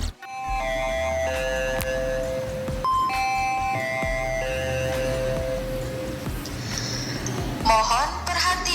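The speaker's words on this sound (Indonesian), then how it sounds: "bel tanda masuk telah berbunyi" An electronic school bell chimes a stepped, multi-note melody to signal the start of class, ringing steadily against background noise.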